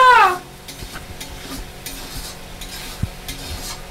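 Mutton frying and being stirred in a pan, a steady sizzle with scraping spoon strokes and occasional soft clinks of the utensil against the metal, close and alone without any talking.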